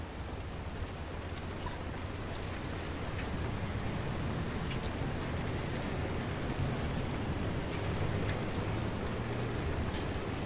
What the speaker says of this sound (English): Oh, got rain, lovely.